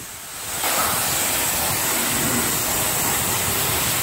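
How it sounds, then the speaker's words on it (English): Water spraying from a garden hose onto a car during a wash, starting abruptly as a steady loud hiss that continues unbroken to the end, with no talk. "We're gonna rinse her off first."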